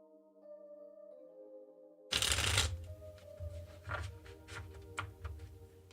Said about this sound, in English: To kick things off is an awkward shuffle.